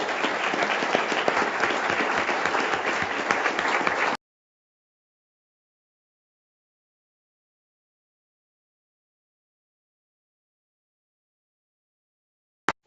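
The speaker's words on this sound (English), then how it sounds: "Another round of applause." Round of applause at a school board meeting, a crowd clapping loudly and densely for about four seconds before cutting off to silence, with a brief click near the end.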